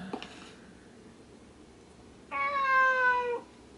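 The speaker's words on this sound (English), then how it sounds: "Guess the cat ran in here." A cat meows once in the video game Fragile Dreams: Farewell Ruins of the Moon, a clear drawn-out falling meow of about a second over a quiet ambient background.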